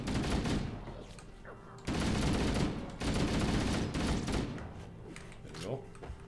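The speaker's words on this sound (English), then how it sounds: "Why is everyone shooting at me?" Dense gunfire in Halo: Combat Evolved, loud bursts of shots in two or three heavy waves with a voice talking over the battle.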